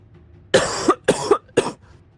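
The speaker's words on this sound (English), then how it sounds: "I'm going to stop coughing." A caster commentating a Dota 2 match at The International 7 coughs three times in quick succession, close and loud, each a sharp burst with short gaps of quiet between.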